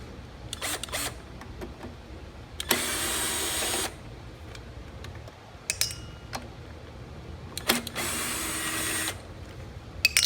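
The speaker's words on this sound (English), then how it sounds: "Okay, now to get the carburetor bolts off." A Kohler engine on a Toro has its carburetor bolts removed with a power tool. Two sustained whirring bursts are separated by quieter clicks and handling of metal parts, all close by.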